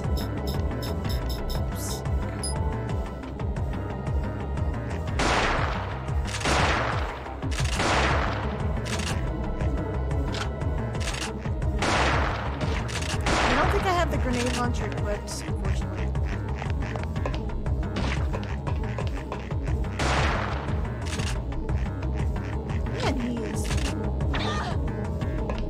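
Gunfire in the video game Parasite Eve 2, heard as several sharp bursts and booms under game music, spread across the stretch with gaps between the shots.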